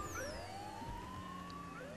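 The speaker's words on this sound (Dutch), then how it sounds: "Alarmpies en vuurwerk." Police-style sirens in the video game GTA V wail with rising and falling tones over steady game noise and engine hum, continuous throughout.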